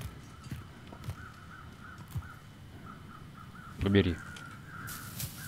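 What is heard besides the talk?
crows cawing over wolf meat in video game The Long Dark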